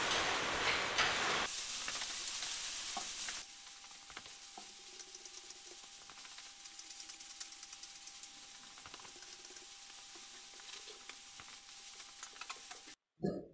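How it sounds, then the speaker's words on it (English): A new surface grinder's table sliding along its x-axis traversing mechanism, a drum with braided wire wrapped around it, giving a loud hiss at first and then a quieter run of rapid ratcheting clicks and rattles, no voices. "Now just playing with the table and the x-axis traversing mechanism."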